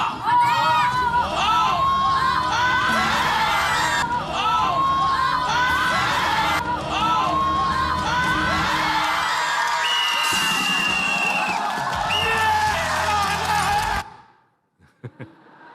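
A large crowd roars, cheers and whoops throughout a men's final in 2018, with shrill excited yells over a dense, continuous din that cuts off abruptly near the end, leaving a few faint sounds.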